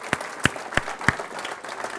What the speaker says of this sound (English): Round of applause for our brave volunteers.